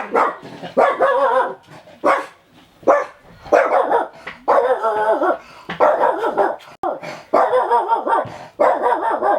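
A dog at a campsite in Angoulins, Charente-Maritime, France barks loudly and close by in a rapid, repeated series of sharp barks and yips that continues throughout.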